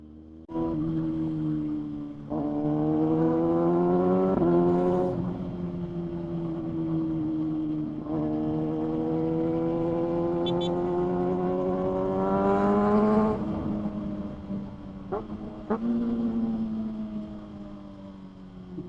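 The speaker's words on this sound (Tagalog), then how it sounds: "Ganda talaga ng tunog ng ZX-6R. Iba talaga yung kanyang ano, exhaust sound." Kawasaki ZX-6R 636 cc motorcycle exhaust while riding: a strong, harmonic engine note that rises and falls through repeated revs and gear changes, loud and close throughout, with no talk over it.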